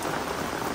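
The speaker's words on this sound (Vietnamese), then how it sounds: "Tại vì quá trời mưa luôn nha quý cô chú" Heavy rain pours down outdoors in a dense, unbroken roar of drops hitting surfaces, loud and close with no voices.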